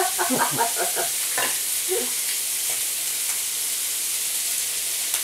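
Beef and pork steaks grill indoors with a steady, close sizzle and hiss, with a few brief utensil clatters near the start.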